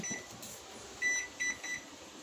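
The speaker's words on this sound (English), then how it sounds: "So make sure you set your timer so that you don't forget." Electronic oven timer beeping in a home kitchen while bread pudding is set to bake, a few short, faint, high tones chirping one after another over quiet room hum.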